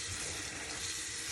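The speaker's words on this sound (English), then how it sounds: "I just put a little bit of warm water, rinse it through like that." Warm tap water runs steadily over a vegetable brush as it is rinsed clean at a sink, a continuous close splashing hiss with no pauses.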